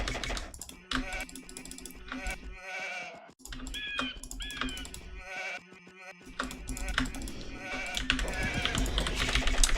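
Sheep bleat in Age of Empires II during an early-game start, a few short bleats heard amid rapid computer keyboard typing and someone talking.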